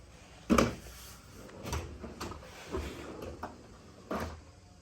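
A Milwaukee tool box drawer is slid open and shut several times, giving roughly five separate clunks and rolling slides spaced a second or so apart, close and moderately loud.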